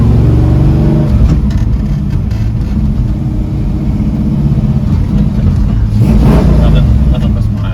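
A 1970 Plymouth Road Runner's engine revs hard under acceleration in second gear, a loud, steady, close roar that swells near the end, with people talking over it.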